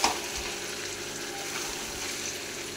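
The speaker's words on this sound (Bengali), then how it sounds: "তার জন্য আমি এখন ভাজা জিরের গুঁড়োটা দিয়ে দিলাম।" Chicken curry fries in a pan just after roasted cumin powder goes in: a dense, even sizzle with soft stirring, close and steady, no voices.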